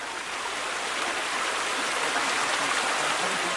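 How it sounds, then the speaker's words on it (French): Small river flowing through jungle at the Laos border, a steady broadband rush of water that stays loud and even throughout, with no voices. "c'est cette petite rivière."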